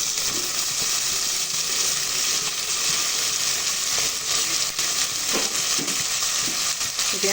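Chopped onions and two medium tomatoes sauté in a hot pan for a rice and lentil dish, giving a loud, steady sizzle and frying hiss with occasional stirring scrapes throughout.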